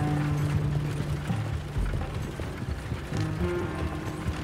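Horse hooves clip-clop at a steady walking pace in Red Dead Redemption 2, with faint mechanical creaks and low ambient hum from the game's surroundings beneath.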